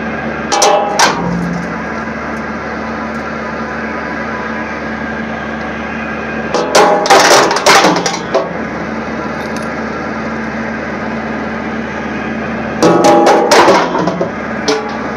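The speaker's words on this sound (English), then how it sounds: "run through the hammer mill with no screen." A hammer mill run with no screen batters titanium and aluminum hip implants, giving a steady mechanical drone broken by loud metallic clattering bursts of parts striking and tumbling inside, most intense around the middle and near the end.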